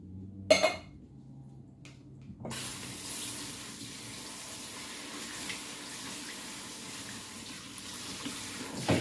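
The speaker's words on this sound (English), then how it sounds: "So I wash the chickpeas," Tap water runs steadily over chickpeas being rinsed at a kitchen sink, a soft, even splashing hiss that starts after a couple of seconds of near quiet and a brief clink, then continues without talk.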